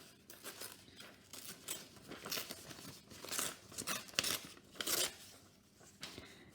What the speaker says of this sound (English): I'm going to tear, here's some book page